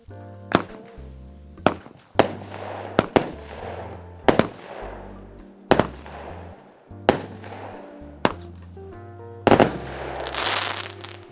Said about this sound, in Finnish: oli kyllä näyttävän näköinen paukku